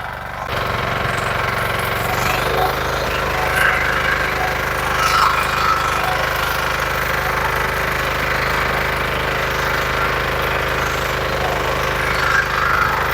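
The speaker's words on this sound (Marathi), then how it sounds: "चालू झालेला आहे पॉवर टिलर" A power tiller engine runs steadily in a turmeric field, a loud continuous chugging drone with a knocking, jackhammer-like pulse and a strong low hum, starting abruptly after a brief moment and holding constant throughout, with no talk.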